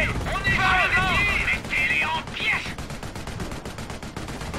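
A gunfight in the World War II strategy game Company of Heroes: Opposing Fronts, German campaign. Voices talk over a noisy battlefield first, then a fast run of sharp machine-gun shots rattles steadily to the end.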